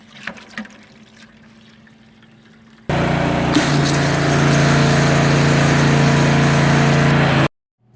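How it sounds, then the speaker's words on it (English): A power washer starts abruptly after a few seconds of faint ambience, running as a loud, steady hiss and motor hum while spraying a Porsche Cayman's engine bay, then cuts off sharply. "One other thing that makes cleaning engine bays a little bit easier is a power washer."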